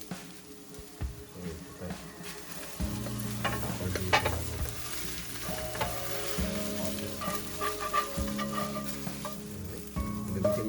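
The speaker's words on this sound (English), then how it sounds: "scrambled egg in the pan" Eggs scramble in a frying pan with a constant close sizzle and frying crackle, broken by intermittent scraping and stirring; a low tonal hum runs underneath.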